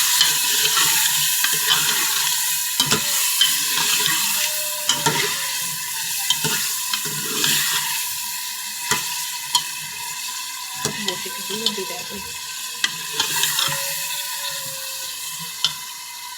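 Chopped ginger frying in hot oil in a pan for chicken aloo shorba, a continuous sizzle with repeated scraping stir strokes and light clinks of the spoon against the pan, close and clear.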